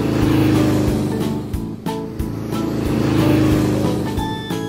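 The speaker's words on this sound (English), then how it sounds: "Now with this car, you can go forward and backwards. Give it a try." A cartoon go-cart's motor whirs and revs in uneven surges, rising and dipping as it drives forward and backwards, with clanking bumps in between.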